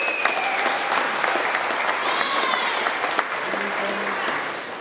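Applause with some cheering from an audience at a trucking company's monthly employee celebration, steady clapping and whoops filling the room for the whole stretch, with a brief voice cutting through near the end.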